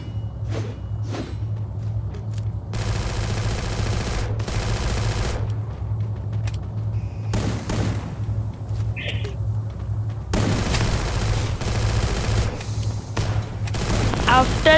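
Gunfire in the mobile battle royale game Free Fire, with repeated bursts of rapid shots and booms over a steady low game hum, some stretches louder than others, with footstep-like sounds between bursts.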